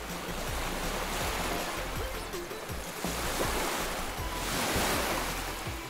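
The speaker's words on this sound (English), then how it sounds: "there's some more water waves though" Broad, steady rush of surf and breaking water waves with a windy edge, swelling gently and continuing without pause, fairly close and loud, with no voices over it.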